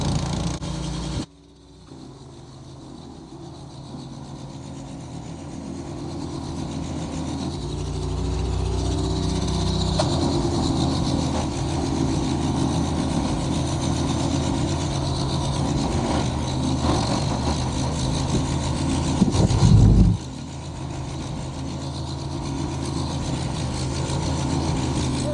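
A small engine on an old snow blower, rescued from the garbage, idles and warms up on choke with a steady low rumble that swells a little partway through, close and loud, with nobody talking.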